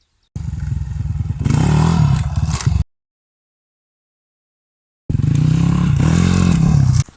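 A trail motorcycle's engine revs hard as the rider pops the front wheel, in two loud, close bursts of throttle separated by a few seconds of silence.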